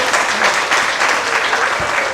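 Audience applauding the artists at a stage program, a dense, even burst of many hands clapping, fairly loud and unbroken throughout.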